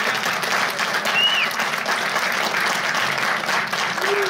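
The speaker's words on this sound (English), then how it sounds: "Round of applause for Scott." A live audience in Las Vegas applauds Scott Deppe at a glass event, with steady, dense clapping filling the whole stretch and a faint voice underneath.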